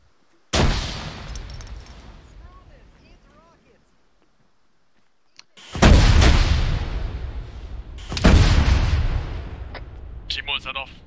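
In ArmA 3, a frag grenade explosion and gunfire ring out: a sharp blast with a long decaying tail, then after a pause two more heavy booming bursts and a few quick cracks, with a voice briefly heard.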